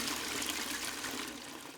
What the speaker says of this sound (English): he's got the tranquil noise of the cascading water in the background